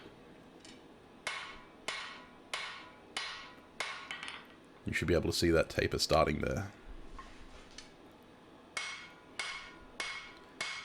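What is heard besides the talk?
straight peen hammer forging steel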